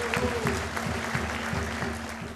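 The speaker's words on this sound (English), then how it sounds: "Let's give a big round of applause." Audience at a policy launch applauding, a steady wash of clapping from a crowd, fairly close and even, with a low hum beneath it.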